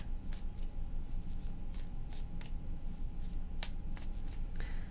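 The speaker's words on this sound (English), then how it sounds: "3 shuffles." Tarot cards shuffled by hand on a table: a steady run of soft riffling and sharp flicking bursts, close and fairly quiet, with no talking.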